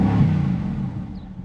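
Mercedes-Benz AMG GT V8 with its louder exhaust mode on, a deep rumbling rev that holds steady then gently eases off over a second and a half, close and fairly loud.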